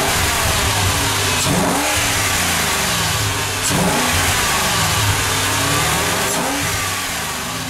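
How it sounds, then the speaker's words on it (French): A BMW 535ia engine, fully warmed up, revs repeatedly in strong bursts that rise and fall over a steady idle. The engine is loud and close, with no voices. "Même si on ne se lasse pas d'entendre chanter ce moteur"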